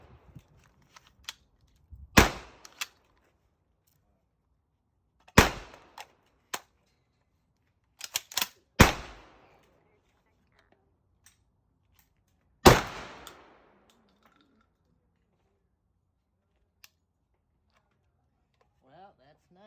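A Citadel Boss 25 semi-auto 12 gauge shotgun fitted with a red dot optic fires slugs outdoors: four loud, sharp blasts spaced a few seconds apart, with faint clicks and handling noise between shots.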